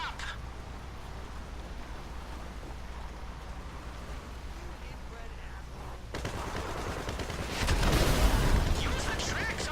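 Gunfire and the rumble of a tank in GTA V Online during a Doomsday Heist setup mission, steady battle noise that swells into a louder, denser burst of shots and blasts near the end.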